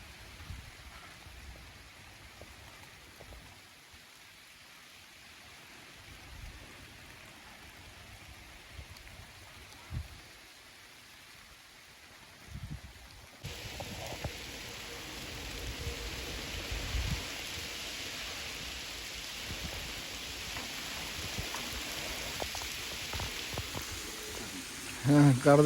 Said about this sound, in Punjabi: ਬਾਰਿਸ਼ ਵੀ ਜਿਹੜੀ ਆ ਕਣੀਆਂ ਮਣੀਆਂ ਵਾਹਵਾ ਹੀ ਪੈਣ ਲੱਗ ਗਈਆਂ